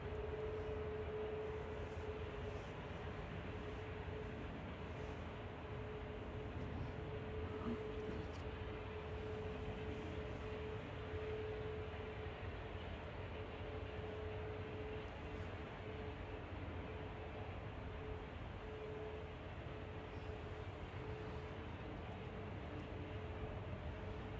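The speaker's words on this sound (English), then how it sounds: "The A380's taking a very slow taxi." An Airbus A380 taxis slowly at Manchester Airport, heard as a steady, distant, low jet rumble with a faint hum, constant throughout with no talking.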